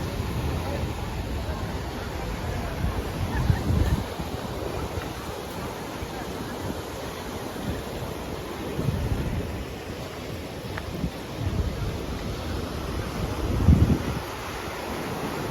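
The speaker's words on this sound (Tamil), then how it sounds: "அலை அடிச்சு கொண்டு வருது பாருங்கோ. பாண்டிச்சேரி கடற்கரை." Night surf rolls in on Pondicherry beach, with low rumbling surges swelling every few seconds beneath heavy wind buffeting on the microphone.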